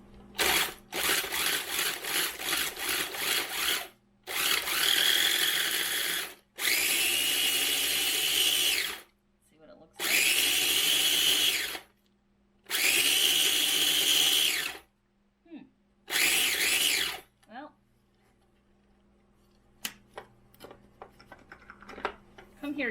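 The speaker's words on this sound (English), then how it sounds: "So instead of taking a blender out, I'm going to do this in this little food processor" A small food processor blends pumpkin pie filling in four loud, steady bursts of whirring motor, each lasting a couple of seconds with short pauses between, preceded by rapid clattering pulses and followed by quiet handling noises.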